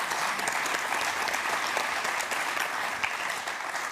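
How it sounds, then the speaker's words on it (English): A conference audience at a digital biomarkers meeting applauds, a loud, continuous wash of clapping sustained throughout without breaks. "A little applause,"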